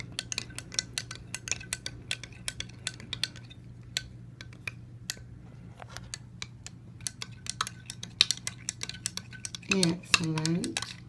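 A utensil mixes a homemade bergamot lavender body wash in a container with a quiet, irregular run of small taps and clicks, faint and close, with a voice speaking briefly near the end.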